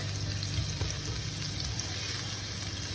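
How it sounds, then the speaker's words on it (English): Garlic frying in a pan for Vietnamese beef noodle salad, a steady close sizzle with light crackle and no talking. "Let the garlic cook"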